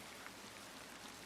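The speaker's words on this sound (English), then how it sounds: "Rain hisses on the glass in its thin," Thin, continuous rain hisses against the glass of a train window on a rainy alpine night train, a soft, faint, even patter with no voices.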